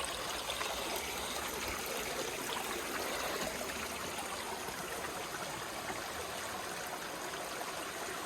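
A clear mountain stream on the Long Trail in Vermont's Green Mountains rushes and trickles in a steady, even wash of water, close by and constant, with no voices.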